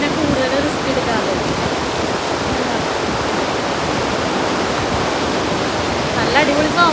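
A powerful waterfall at Great Falls, New Jersey, pours in a steady, dense roar of rushing water that fills the scene without a break, loud and close.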